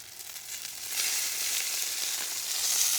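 A ribeye steak pan-searing in a hot pan, a bright, steady hiss of sizzling fat that grows louder and stays close and continuous, with no voices.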